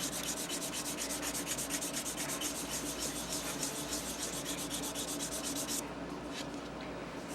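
Steady, rhythmic rasping of a Bob Martin sanding block rubbed back and forth over a wooden model aircraft part on a flat table, close and continuous, easing slightly near the end.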